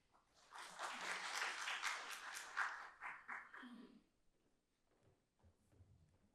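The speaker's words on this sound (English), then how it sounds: "Let's give applause to him." A conference audience claps for a presenter in a short burst of dense, fairly close applause that fades after a few seconds into faint room noise and scattered movement.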